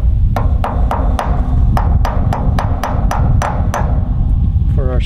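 A hammer drives a small pin into the ground for a string line at an elevated concrete porch slab build, about a dozen sharp, evenly spaced blows ringing out close and loud over steady low background noise.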